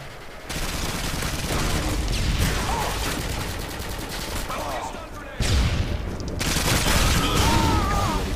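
Online match of Call of Duty: Modern Warfare 2 with continuous gunfire and a sharp claymore mine blast partway through, the shooting dense and close, then surging again after the explosion, without clear speech.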